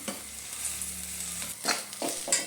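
Chopped green chillies and curry leaves frying in a pan for a Kerala-style chicken dish, a soft steady sizzle joined by a few louder scraping stirs near the end, close by.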